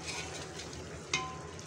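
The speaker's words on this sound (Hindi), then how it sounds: "थोड़ी देर फ्राई होने देंगे" Arvi (taro) and mutton frying with masala and green chilies in a pan over a medium flame, a soft continuous sizzle with one brief clink of a utensil, close and fairly quiet, with no voice.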